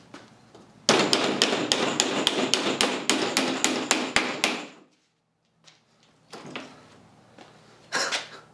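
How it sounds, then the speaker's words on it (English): A rapid burst of sharp hammering from an electric hammer driving nails, about a dozen quick strikes in steady rhythm, loud and close, then a pause and a couple of shorter bursts of noise. "now let's try it with the electronic hammer"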